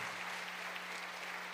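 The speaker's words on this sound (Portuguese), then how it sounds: "Dê um aplauso para Jesus" Church congregation applauding during an online worship service, a steady even clapping wash with a faint low hum underneath.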